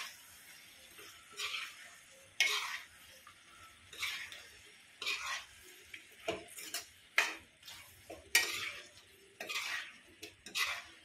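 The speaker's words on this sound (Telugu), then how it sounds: "క్యాప్సికమ్ ముక్కలు, చూడండి కొంచెం కలియబెట్టండి." A spoon clinks and scrapes against a pan while capsicum pieces and soya chunks are stirred, giving irregular sharp taps and scraping strokes at close range with no talking.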